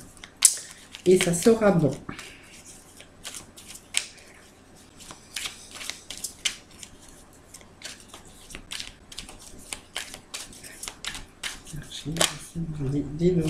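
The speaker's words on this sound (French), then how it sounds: "Allez, je vais procéder à la coupe. Encore un petit peu de battage." Tarot cards are shuffled and cut by hand in a series of crisp riffling flutters and soft slaps, close and fairly quiet, with someone speaking briefly in French.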